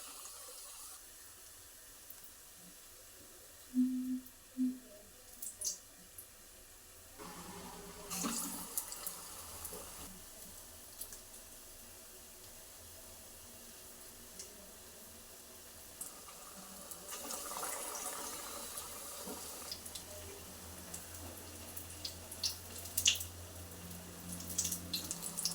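Aloo bonda fry in hot oil with a steady, faint sizzling hiss that runs throughout, with occasional small pops and louder surges as more pieces drop in.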